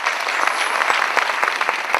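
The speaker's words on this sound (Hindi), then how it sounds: "आज आप ताली बजा रहे हैं" Audience applause at a Dewsoft festival event, a dense, steady wash of many hands clapping close together, loud and continuous with no voices over it.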